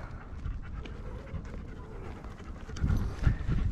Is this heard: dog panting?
yes